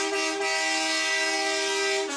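A trash truck's horn blares at a Fourth of July parade in Santa Clarita Valley, one long sustained loud tone lasting about two seconds.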